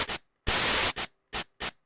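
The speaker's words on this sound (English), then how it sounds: "So we got some white noise here in the browser" Bursts of white noise play in short sample previews, one brief hiss, a longer sustained blast, then three short bursts, each cutting off abruptly into silence.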